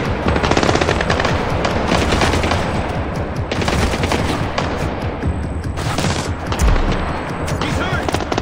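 Sustained automatic gunfire crackles in Splinter Cell Blacklist on realistic mode in the Transit Yards level, with rapid bursts, overlapping shots and a heavy boom or two. It is loud and continuous throughout.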